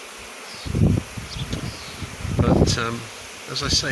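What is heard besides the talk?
honey bee swarm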